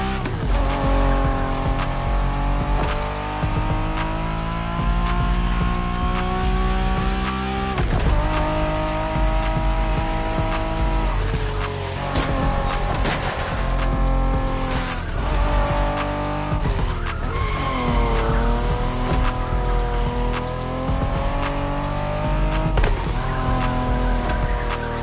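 A Honda NSX sports car in The Crew Motorfest racing game drives hard with a loud, continuous engine drone that rises and shifts through gear changes, with squealing tires layered over it throughout.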